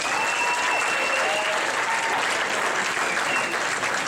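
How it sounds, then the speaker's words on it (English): Sustained, dense applause from an audience honoring contestants at a public speaking competition at Sherman College, steady and loud throughout with no break. "Everybody give again a great big warm round of applause for all our contestants."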